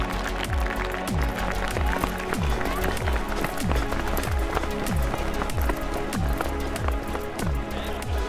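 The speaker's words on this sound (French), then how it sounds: "le public qui applaudit bien fort!" Spectators clap at the start of the Trail Muco trail race in La Chapelle-Erbrée, a dense, steady wash of applause that runs throughout over a regular thumping beat, with voices in the mix.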